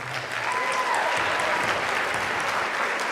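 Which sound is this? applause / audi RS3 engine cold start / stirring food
applause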